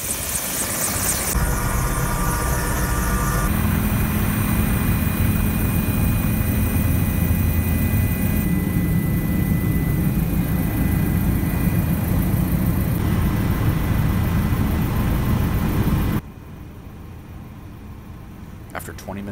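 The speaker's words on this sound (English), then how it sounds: "We're about to get on this helicopter." A helicopter on a flight toward Carstensz Pyramid in Indonesia gives a loud, steady rotor and engine roar heard from close by. It runs unbroken for most of the clip, then drops sharply in level near the end, and a voice speaks over it.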